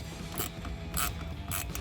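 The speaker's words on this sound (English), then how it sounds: "Here we're tightening down onto the metal tube, which will have a little bit more rigidity to it than the plastic." Ratcheting clicks from tightening a cold air intake clamp onto a metal intake tube on an EcoBoost Ford F-150, three short bursts of rapid clicks about half a second apart, close by and fairly quiet.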